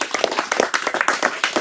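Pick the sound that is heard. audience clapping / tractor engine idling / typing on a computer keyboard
audience clapping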